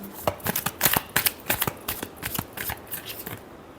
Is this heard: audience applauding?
no